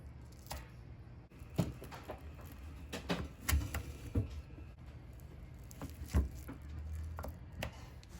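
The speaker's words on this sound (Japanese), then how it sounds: "しっかりと固まっていれば包丁でカットしていきましょう。" A kitchen knife cuts through frozen, rock-hard icebox cookie dough with irregular crisp taps and scraping crunches on a board, close and moderately quiet, with no talking.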